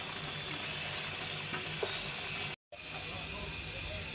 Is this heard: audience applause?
no